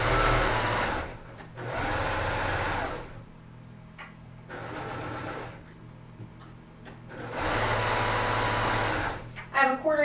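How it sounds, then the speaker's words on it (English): A sewing machine backstitches quilt fabric for a jelly roll coffee cozy in quick mechanical bursts, fast whirring runs separated by pauses, with a few light ticks near the end. "So I'm going to come in about 1/4 inch, and then I'm going to backstitch, because that's where it's going to get turned."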